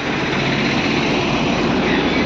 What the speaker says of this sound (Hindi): टायर स्लिप मार दे रहा है, इसके लिए इंजन ने खींच के लेके जा नहीं पा रहा है।